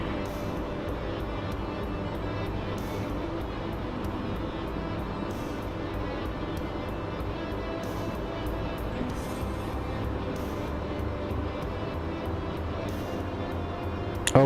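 Airplane engines in a video game roar in reverse thrust on landing, with a heavy aircraft holding a loud, steady, broadband drone throughout and no voices over it.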